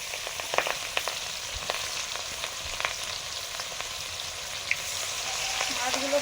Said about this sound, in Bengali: মাছগুলো ভাজতে দিয়েছি আগে,